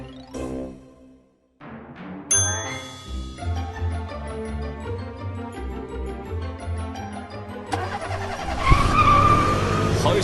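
A scooter engine revs and accelerates steadily, with brief tire squeal and music-like tones layered over it, loud and close.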